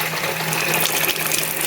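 Engine coolant from an Escort Cosworth pouring steadily into a bucket, a continuous close splashing gush with no voices.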